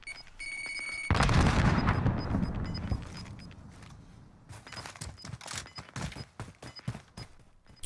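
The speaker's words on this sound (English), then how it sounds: "He then tries to throw some grenades up to the top." Combat in the video game Warzone, with a loud frag grenade blast rolling out and decaying, followed by scattered sharp gunshots and distant pops, no talking.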